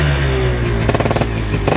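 Yamaha RX two-stroke motorcycle, converted from a four-speed to a five-speed gearbox, with its silencer slightly opened, idling with a steady buzzing throb and then revving in short, close, loud bursts.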